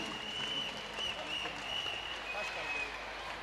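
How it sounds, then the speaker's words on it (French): Audience applause at a spelling bee final, a sustained burst of crowd clapping heard fairly close and even for a few seconds, with a faint tone running through it. "Il faut l'applaudir"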